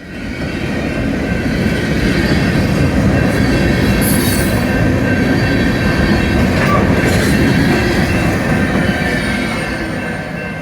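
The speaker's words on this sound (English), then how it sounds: "So what a train here!" A heavy CSX freight train rumbles past close by near Chattanooga, Tennessee, wheels roaring and clattering continuously, with occasional high metallic squeals over the steady din.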